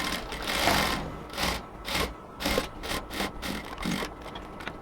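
A sewing machine stitches the full waistband of a ladies' pant, its motor buzzing in a quick series of short, uneven bursts, loud and close with no talk.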